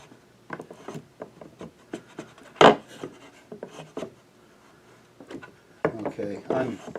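Painted wood being rubbed and knocked to distress it, with scattered scraping and bumping sounds, one loud knock, and a denser burst of rubbing near the end, close and moderately loud.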